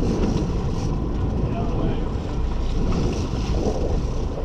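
Sport fishing boat off Kona shifted into gear, its engine a steady low rumble blended with wind buffeting and water wash close to the microphone, continuous for the whole stretch.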